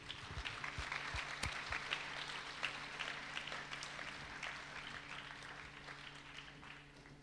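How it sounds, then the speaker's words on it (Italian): Congregation at a Sunday church service welcoming Korean guests gives steady, full applause throughout, a continuous wash of clapping from a hall full of people, moderately distant with a low hum underneath. "vogliamo riceverli con un forte applauso"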